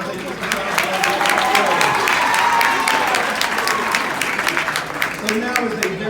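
A school graduation audience applauds steadily for Mr. Sonic, the dense clapping holding loud and continuous throughout with faint crowd voices mixed underneath.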